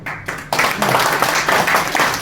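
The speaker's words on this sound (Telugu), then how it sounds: "బాలాజీ గారికి గట్టిగా చప్పట్లు కొట్టండి." An audience at an event hall in Khammam breaks into loud, dense applause, building quickly after a few opening claps and sustained close up.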